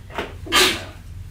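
A single short sneeze, a quick breathy intake followed by a sharp hissing burst, heard close in a quiet meeting room.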